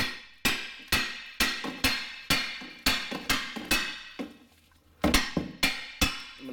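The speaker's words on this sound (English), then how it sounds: "take my hammer and grab my control arm from some point and just start tapping it downward" A hammer taps downward on a Nissan Rogue lower control arm to free it from the ball joint, giving about fifteen sharp metallic knocks in an uneven rhythm, close by but fairly quiet, with a short pause midway.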